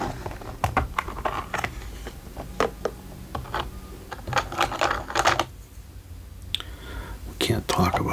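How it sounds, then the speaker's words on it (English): Pencil tips scratching and tapping on paper, a series of quick irregular strokes and clicks, close up, with soft whispering in places. "We can't talk about pencils without enjoying the sweet sound of pencils."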